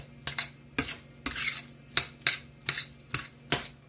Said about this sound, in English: Just chop it up in there.